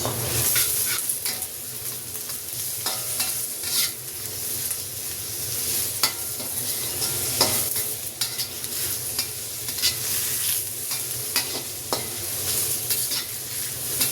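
Spiced chicken, coated in masala, dried chilli and salt for noodles, fries in a pan with a steady close sizzle, while a utensil scrapes and clinks against the pan in repeated stirring strokes; no one speaks.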